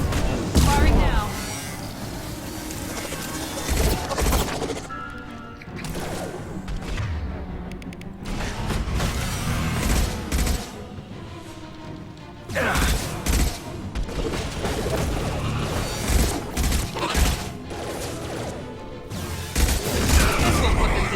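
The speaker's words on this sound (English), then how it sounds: "Firing now." Gunfire in the video game Mass Effect 2 comes as repeated bursts of shots and heavy thumps at varying loudness, mixed with game music and voices talking throughout.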